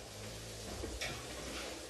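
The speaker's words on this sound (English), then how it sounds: "My chicken is still sizzling, you can hear that." Split chicken sizzles quietly in a pan with a steady, faint hiss and crackle, close by and with no talking.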